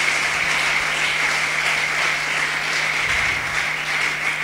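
A church congregation applauds and cheers the Lord during a French-language worship service, a dense, steady wash of clapping that holds at full strength for several seconds with no speech over it.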